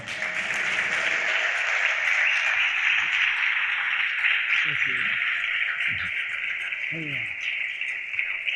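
At a conference in Tangier, an audience applauds the president's wife with steady, continuous clapping that fills the whole stretch, with faint speech-like sounds mixed in.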